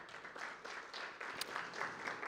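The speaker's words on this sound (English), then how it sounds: "Can I request Jackie to stand up for recognition, and we clap for her" Soft, distant applause rising from a conference audience at a fintech event in Uganda as a woman stands for recognition, a continuous faint patter of hands with no talk over it.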